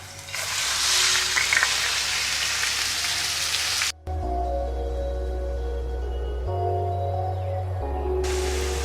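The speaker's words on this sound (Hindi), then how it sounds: "खाली पैन के अंदर हम 3 टेबलस्पून ऑलिव ऑयल डालेंगे। साथ ही हम इसके अंदर चिकन डाल देंगे।" Chicken frying in three tablespoons of olive oil in a pan for stir-fried egg noodles, a steady loud hiss and sizzle that drops briefly, then returns with a low hum running beneath it.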